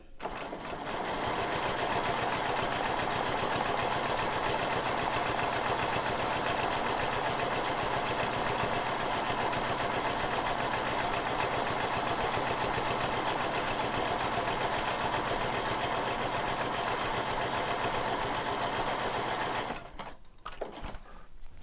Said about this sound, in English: let's quilt the last little part of mandala number 12